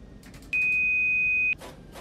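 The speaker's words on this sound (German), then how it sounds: "Das war ein sehr lauter Piepston." A very loud warning beep sounds in a train cab in the video game Train Sim World 5, a single steady piercing tone lasting about a second, set among faint hissing rushes of air and a low rumble.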